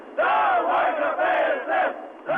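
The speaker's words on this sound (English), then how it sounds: "Cheers and calls you can hear behind me." A large crowd of protesters gathering in Moscow at the White House, chanting and cheering in loud sustained swells that rise and fall, close and dense, with no single voice standing out.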